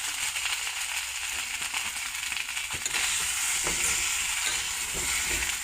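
Eggs sizzle and spit in a pan with ginger garlic paste, a steady crackling hiss that grows a little louder partway through, with no talking.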